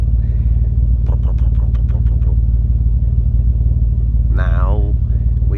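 A Honda J37A1 V6 fitted with BC camshafts idles loudly close up, a deep, heavy, steady rumble with a lumpy pulse, while someone talks briefly over it.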